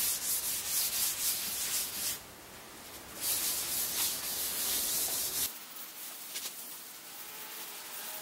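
A rag soaked in alcohol wipes down a surfboard to clear dust, oil and grease, producing close, continuous rubbing strokes in uneven bursts, with no one speaking.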